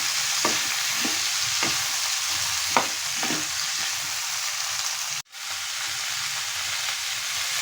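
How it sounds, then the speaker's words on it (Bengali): Cauliflower and potato fry in a pan with a steady sizzling hiss, punctuated by several soft stirring scrapes and a sudden brief drop in the sound near the end. "এখন আমি একটু ভেজে নেব ফুলকপি আলুটা।"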